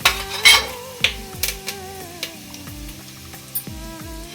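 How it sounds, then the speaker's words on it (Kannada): Cumin and peanuts are tossed into hot oil, giving a crackling sizzle with sharp metallic clinks of a spoon against the pan and background music playing underneath, close and fairly quiet. "ಎಣ್ಣೆ ಕಾದಿದೆ. ಸ್ವಲ್ಪ ಜೀರಿಗೆ, ಶೇಂಗಾ ಕಾಳು"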